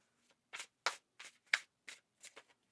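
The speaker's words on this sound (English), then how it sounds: "One more shuffle here, please." Tarot cards are shuffled by hand in a quiet room, making about seven short, crisp riffling bursts spaced unevenly apart.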